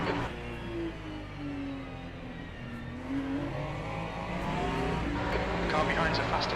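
A race car in Le Mans Ultimate roars past over a steady engine drone, with rising and falling engine tones. A voice speaks over the engine noise.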